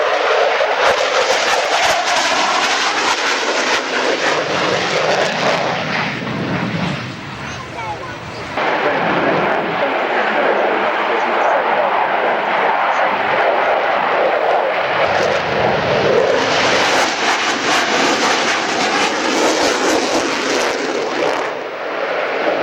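A display aircraft at the 1999 Biggin Hill Air Fair roars loudly and continuously overhead, its engine noise swelling and fading slightly as it passes, with commentary faintly underneath.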